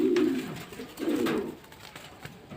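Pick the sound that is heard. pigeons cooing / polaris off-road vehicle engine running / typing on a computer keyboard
pigeons cooing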